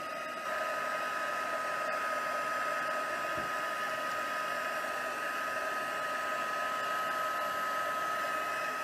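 A heat tool blows steadily, melting embossing powder on designer paper for an emboss resist project. The hot-air whoosh is loud and even with a faint tonal hum, and it runs alone and unbroken throughout.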